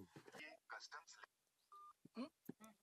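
A single short telephone keypad dial tone beeps clearly between stretches of nearby conversation.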